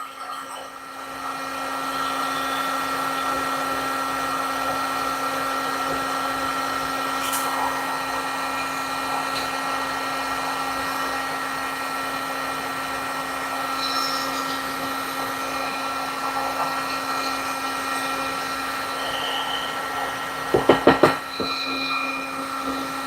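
Steady droning whine of powder coating gear running on a jig-lure workbench, constant and close with a faint hum underneath, ending in a few sharp clicks and knocks.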